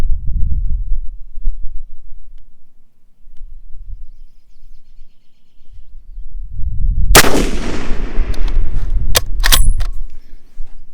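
A James River Armory 1903A4 rifle firing 175 gr match ammunition at a 300-yard range: a loud sharp report around the seventh second with a long ringing decay, followed by a few sharp clicks and knocks, low rumble before.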